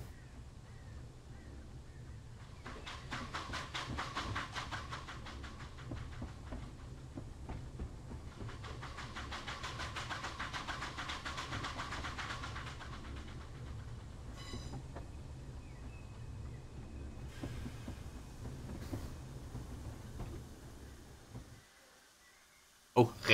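The Corris Railway No.7 locomotive runs in Train Simulator 2018, with steady rolling rail noise and rhythmic chuffing that swells and fades over a long stretch. A brief hiss and a hard clunk come at the end.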